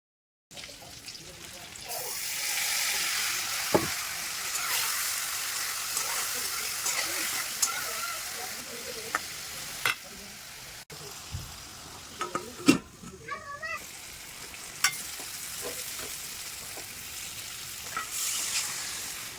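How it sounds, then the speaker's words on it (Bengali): Potatoes fry in a pan with a steady, moderate sizzle that runs throughout, broken by occasional sharp clicks and utensil taps, with a few faint background noises and no clear talk. "আর এই যে আলুটা কিন্তু আমার প্রায় ভাজা হয়ে গেছে।"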